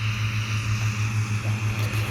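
A farm tractor pulls in during a July hay-cutting season, its engine giving a steady, continuous low drone with a regular throbbing pulse, fairly close and alone without any talk.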